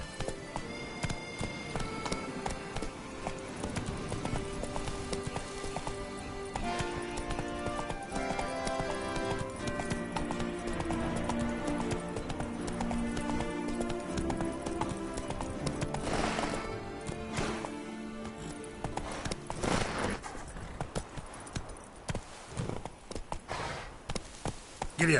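A horse galloping in the Witcher 3 video game, rapid rhythmic hoofbeats running steadily under game music, with a brief whinny and the beat easing toward the end.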